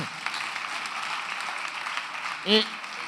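An audience at an Italian comedy show claps in a steady, dense wash of applause that lasts throughout, and a voice cuts in briefly near the end.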